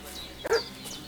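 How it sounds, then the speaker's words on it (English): A single short dog bark in Kingdom Come: Deliverance II, one sharp yelp rising out of a quiet ambient background, heard alone without talk. "What's that dog making such a fuss about?"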